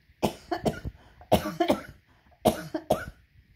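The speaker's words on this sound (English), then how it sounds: "I'm going to cough." An older woman coughs in several harsh bursts in groups of two, close and fairly loud, with short quiet gaps between them in a calm indoor room.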